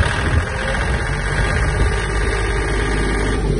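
Kubota L1-185 Japanese mini tractor with its rotary tiller engaged, the engine held at high revs in a steady, loud, continuous drone with strong low rumble and no voices.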